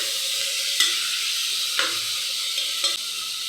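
Chopped tomatoes hitting a hot pan for tomato rice, a steady, bright hiss of sizzling with three brief stirring knocks spaced about a second apart, and no talking.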